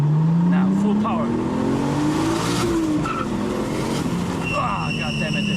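A Nissan Skyline GT-T pulls hard at full power on a mountain road, its engine note climbing steadily in pitch over several seconds, loud and close, with a brief tire squeal and road noise around it.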